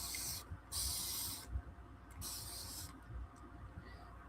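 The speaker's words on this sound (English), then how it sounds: "What did I do with my spray bottle?" A hand spray bottle misting during resin crafting at home, fired in three separate hissing bursts with short quiet gaps between them, close and fairly loud.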